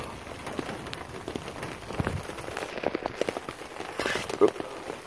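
Rain falls steadily on a residential street, a close, dense patter with scattered heavier drops splashing, continuous throughout.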